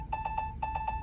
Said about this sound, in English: every 15 minutes, check baby alarm comes on